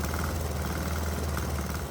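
A small 196 cc 3 hp single-cylinder diesel engine runs roughly on a motor oil and propane mixture, producing a steady, dense, labored chugging drone close by.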